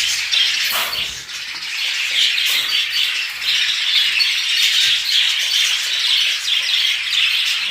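Many budgerigars in cages at a bird seller's chirp and chatter continuously, a dense, loud flock of bright squawks and tweets close by, with no talk.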